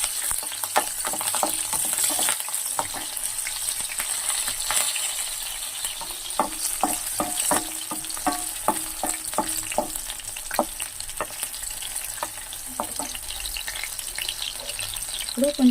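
Prawns and green chillies frying in a pan for biryani sizzle steadily, with repeated sharp clicks and spatters from stirring scattered throughout, moderately close and without speech.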